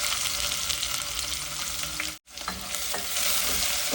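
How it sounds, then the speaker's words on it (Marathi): Onion sautéing in hot oil with bay leaves, cinnamon, cumin and mustard seeds, giving a steady, loud, close sizzle that breaks off for a moment before resuming as it is stirred. "आपण छान परतून घेऊया."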